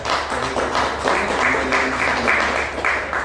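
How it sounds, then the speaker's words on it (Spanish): An audience claps together in a steady, moderately loud wave of applause, with no one speaking over it. "quiero pedir un fuerte aplauso para la doctora"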